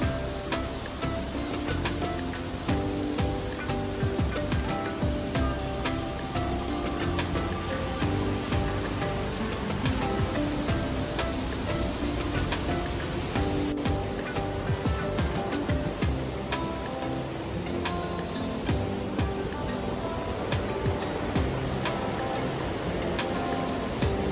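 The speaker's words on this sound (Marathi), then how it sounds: "नांगरतास वॉटरफॉल खरंच खूप मोठा आहे आणि त्याचा फ्लो तुम्ही बघू शकता" Nangartas waterfall at Amboli, Maharashtra, a deep gorge waterfall, pours as a steady, loud broadband roar of rushing water that continues unbroken throughout, with no voices over it.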